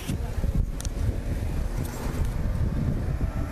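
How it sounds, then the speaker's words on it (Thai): Strong outdoor wind buffets the microphone in a steady, loud low rumble with gusty swells, filling the whole stretch with no speech over it. "ลมมันจะแรงไปนิดนึงนะคะ"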